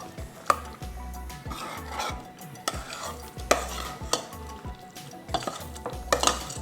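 Chicken curry with onion and tomato being stirred in a pan, a spoon scraping and clinking against the metal in a steady repeated rhythm over a soft sizzle, close and clear with no talking.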